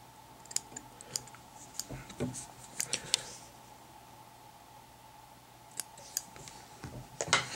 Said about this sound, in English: you can come in and trim them after the fact with your scissors to the desired length